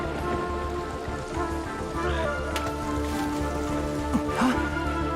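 Steady rain falls in the video game Genshin Impact, a dense, even hiss of drops hitting the ground, with tonal game sounds and faint chimes layered over it.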